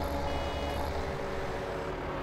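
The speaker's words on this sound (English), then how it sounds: "You heard the beeping sound. That was letting us know that he was almost full." A harvester's full-tank warning beeps in Farming Simulator 17, a few faint high electronic beeps over the steady rumble of farm machinery during grass and silage harvesting.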